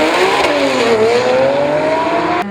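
A front-wheel-drive Hyundai Elantra launches at a drag race shootout, its engine loud and close with a steady high rev that dips briefly and then climbs again as the car pulls away.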